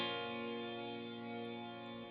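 A clean electric guitar chord in a pop-punk song produced in Logic Pro X rings out and sustains, washed in heavy reverb with a trailing delay, played alone at a steady level.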